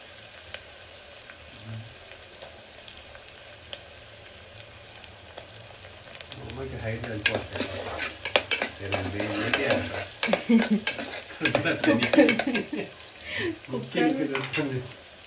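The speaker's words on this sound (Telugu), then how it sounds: "ఆనియన్స్ కొంచెం మంచి కలర్ వచ్చేంత వరకు ఫ్రై చేసుకోవాలి." Onions and green chili sizzle and crackle in a hot pan, starting quiet then growing loud with stirring scrapes in the second half.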